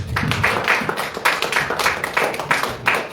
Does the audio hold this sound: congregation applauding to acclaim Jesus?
yes